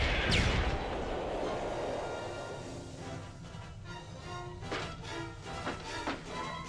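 Decepticon energy weapons firing in a Transformers cartoon battle, a sharp blast followed by a rumbling barrage and scattered zaps fading over several seconds, moderately loud.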